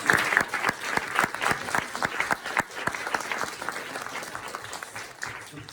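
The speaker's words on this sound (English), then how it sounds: "Let's give another round of applause" A crowd applauding after a lecture on the history of jazz, dense clapping that stays steady and loud before easing slightly toward the end.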